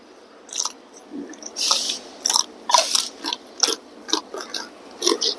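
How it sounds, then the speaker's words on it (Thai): Wet, crunchy chewing of spicy papaya salad with fermented fish, rice noodles and crisp morning glory, with repeated mouth smacks and bites, close up and fairly loud, in an irregular rhythm with no talking. "เสียงปากกระเทบ จับจับจับจับ"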